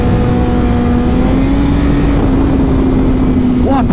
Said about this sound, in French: on est sur une moto 2008, ok, de la marque Honda